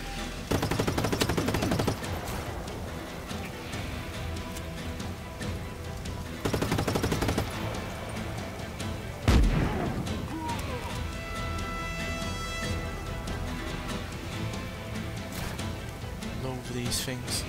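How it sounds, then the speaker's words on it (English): Anti-aircraft guns keep up a rattling automatic fire in Just Cause 3, dense bursts over a busy battle with a heavy boom midway, loud and continuous as someone talks over it. "Goddamn AA guns."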